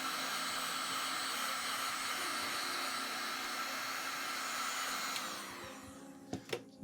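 A heat gun blows a steady, even rush of hot air over thread and foam in a workshop, holding constant before tapering off, followed by a couple of brief knocks near the end.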